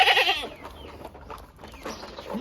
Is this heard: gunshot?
no